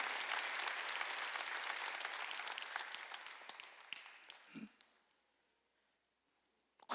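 A church congregation at a Sunday worship service breaks into a full round of applause that starts loud and steady, then thins out and fades to near silence, with a few scattered claps near the end.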